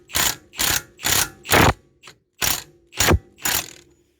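A hand ratchet and socket turns a CV joint hex nut in eight quick, close ratcheting bursts of even rhythm, with short pauses between them and no talking.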